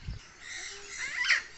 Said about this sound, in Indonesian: Ini kakak tua Maluku.